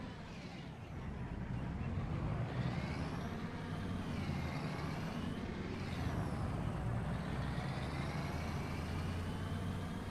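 A pickup truck in the farming video game Farming Simulator 25 idles and revs steadily at high revs, a continuous loud engine drone with faint talk underneath.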